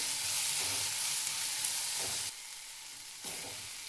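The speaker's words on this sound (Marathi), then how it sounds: "हिरवी मिरची पण भाजून घ्यायची तेलामध्ये." Green chilies frying in hot oil in a pan for a rajma masala, a steady close hiss and sizzle with a couple of abrupt drops and rises as the pan is stirred.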